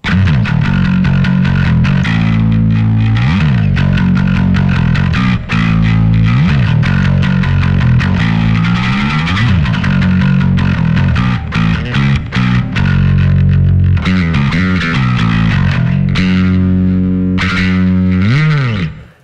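Bass played through a BOSS ME-90B multi-effects unit set up for bass amps and effects, sounding loud and continuous with heavy distortion and chorus-like swirl, with sliding notes and a dense sustained tone throughout.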